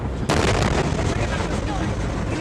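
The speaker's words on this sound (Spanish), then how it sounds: "parece explosión en las municiones o algo así" Munitions exploding in sequence at a military barracks depot in Riobamba, a sudden loud distant blast that rolls into a sustained roaring, rumbling wash of noise.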